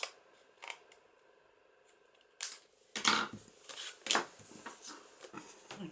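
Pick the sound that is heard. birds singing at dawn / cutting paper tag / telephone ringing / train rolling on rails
cutting paper tag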